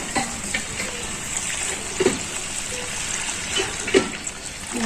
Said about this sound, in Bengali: আমি জলটা দিয়ে দিতেছি